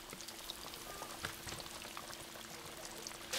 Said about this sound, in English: There's that sizzle we've been looking for and been looking forward to all day.